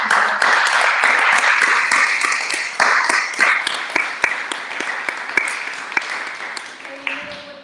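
Audience applause at a grand opening event, dense clapping sustained across the whole stretch with a few sharper individual claps, fading near the end as a voice begins over it.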